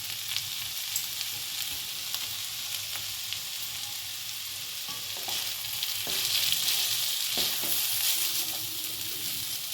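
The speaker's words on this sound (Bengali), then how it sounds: "এবার সেদ্ধ করা নুডলস দেবো।" Boiled noodles sizzling and frying in a hot pan as they are stirred, a steady, close hiss with light scraping throughout and no talking.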